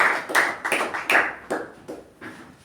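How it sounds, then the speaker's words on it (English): A round of clapping after a speech at a meeting, with sharp, irregular bursts that gradually thin out and fade, like a small audience applauding indoors. "Let's give her a special round of applause"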